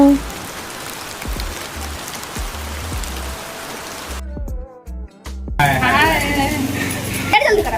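Rain begins falling on an outing near a temple, a steady broadband hiss of drops on surfaces for several seconds before a brief cut, then voices talk excitedly over the continuing rain.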